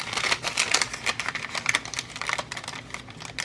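Paper is cut for a flower place card, a run of close, quiet, rapid clicking and snipping taps with slight crinkles in between; nobody speaks.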